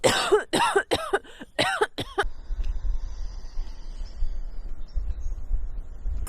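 A quick burst of five or six harsh coughs up close, then it trails off into a low rumbling background with no voices.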